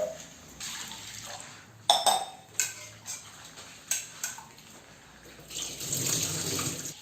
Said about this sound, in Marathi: डाळ चांगली चोळून अशी 2 वेळा धुवून घ्यायची